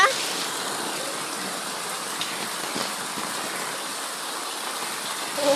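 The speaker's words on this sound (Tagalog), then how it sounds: "Ang lakas ng agos." Heavy rain and rushing floodwater pour in a steady, dense broadband roar that holds evenly at close range, with faint voices mixed in.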